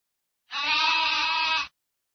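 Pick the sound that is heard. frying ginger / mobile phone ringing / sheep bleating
sheep bleating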